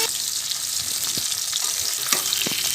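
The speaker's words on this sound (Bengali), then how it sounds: "তেলটা গরম হয়ে গেলে এক এক করে মাছগুলোকে ছেড়ে দেবো" Steady crackling sizzle of katla fish pieces frying in hot oil, close and continuous, with a few sharper pops and clinks rising above it.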